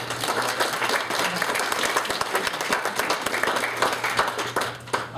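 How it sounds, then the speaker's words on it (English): Audience at a Denver event applauding presenters after an informative session, a dense steady clapping that holds for several seconds at moderate loudness with a low hum beneath. "let's give them a round of applause"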